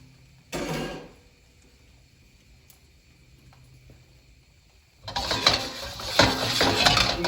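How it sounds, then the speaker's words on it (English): Beaten egg, unseasoned, dropped into a hot, oiled pan for pork fried rice: a brief burst of sizzle, a quieter stretch, then a loud, steady crackling fry that builds and holds. "You got a nice hot pan and you got fat in there, the egg isn't going to stick."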